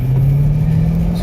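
Steady engine drone of a manual car moving in second gear, a close, even low hum with a sustained tone and faint road rumble, no talk.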